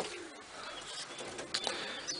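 Racing pigeon hen on her nest giving low, soft coos close by, with faint rustling and small movements around her, no talk.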